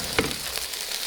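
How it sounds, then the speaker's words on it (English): Food sizzles inside an air fryer, a steady close crackling hiss with one sharper pop near the start, heard alone. "listen to that sizzle"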